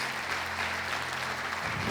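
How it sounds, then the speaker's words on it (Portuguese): A church congregation applauds in a dense, steady wash of clapping that fills the whole stretch without pause. "Você pode aplaudir o Senhor?"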